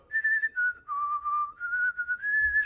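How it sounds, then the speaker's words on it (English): A clear, close whistled rendition of the national anthem in a cartoon, with steady held notes rising and falling, a short tune whistled alone. "it's whistling the national anthem with his butt."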